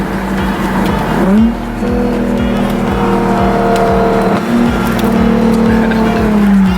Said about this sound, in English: Let's see if he falls for the downshift trick.